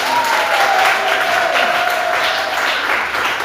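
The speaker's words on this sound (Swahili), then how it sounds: "Makofi kwa Yesu." A church congregation applauding during a worship service, with loud, steady clapping from a crowd throughout and a faint sustained tone above it.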